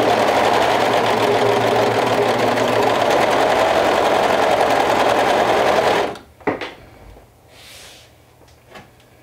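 A sewing machine stitches a cuff through several layers of fabric, running steadily and close for about six seconds before stopping, followed by a few small handling clicks and quiet rustling.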